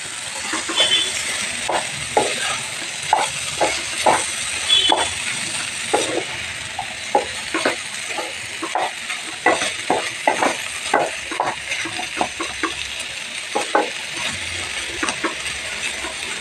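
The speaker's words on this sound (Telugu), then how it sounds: "ఇప్పుడు బీన్స్ వేసి కలుపుతున్నాను." Green beans being stirred in a frying pan with paste, a continuous soft sizzle broken by repeated clinking scrapes of a spoon against the pan at an irregular rhythm, close and moderately loud, with no talking.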